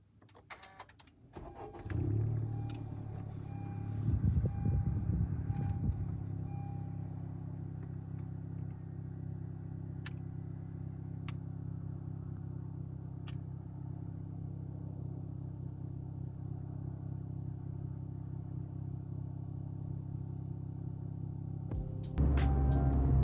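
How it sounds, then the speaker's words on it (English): Car with sound deadening installed starts up and runs, giving a steady, muffled low engine hum inside the cabin with a few faint clicks, after a brief burst of handling noise at the start and a louder shift at the end. "So this is the car with the sound deadening on."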